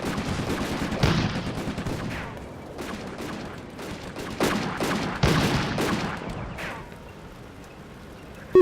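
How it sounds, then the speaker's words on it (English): Tank and gun fire in the WWII strategy game Combat Mission: Afrika Korps at Bir Hakeim, with repeated sharp cracks and bursts spread across the clip over a steady rumble of battle ambience. "This guy is shooting at the same tank"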